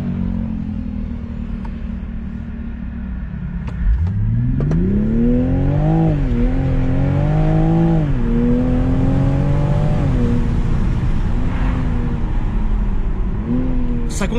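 A new Toyota Supra engine revs up and accelerates with a loud, rising exhaust note that climbs and dips through several surges over about ten seconds, close and dominant throughout.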